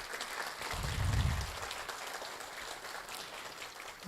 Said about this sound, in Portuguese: Palmas para os nossos companheiros.